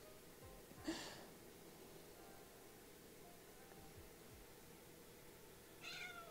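A house cat meows twice, a short cry near the start and another near the end, faint and fairly close over quiet room hiss.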